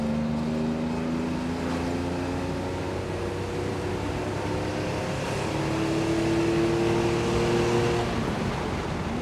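A 1973 Porsche 911E's air-cooled engine roars continuously from inside the car on an open road, its pitch rising and falling as it accelerates up through the gears.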